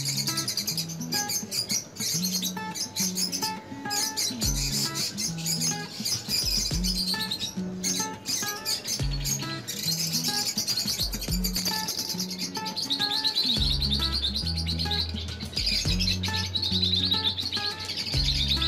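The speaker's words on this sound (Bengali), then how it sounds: "অসাধারণ এই পাখিগুলো" Lovebirds in a large breeding setup chirp and squawk continuously, a dense, busy chorus of many birds close by with no talking over it.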